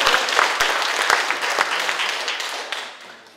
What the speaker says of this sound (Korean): 동의하시면 박수 부탁드리겠습니다